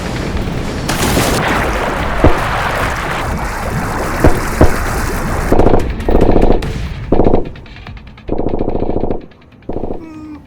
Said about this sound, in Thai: เขารู้สึกว่าเขากำลังเห็นคนยิงปืนกันที่ใต้น้ำของเกมผับจีโมบายเลยล่ะ